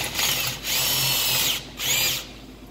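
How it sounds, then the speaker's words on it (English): A power drill with an old bit bores out car suspension bushing shells, running in two loud, steady whining bursts with a short pause between and a quieter tail, close up and with no speech. "And sometimes you break a drill bit."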